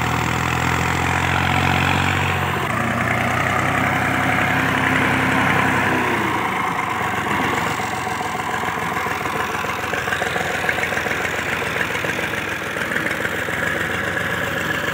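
A Massey Ferguson 240 tractor engine idles close by, a loud, steady diesel chug with an irregular knocking rhythm running throughout.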